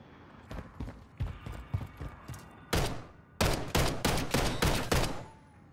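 Rapid sniper rifle shots in a close-range video game gunfight at a training facility, about a dozen sharp loud cracks in quick succession, the later bursts louder and closer, with no talking.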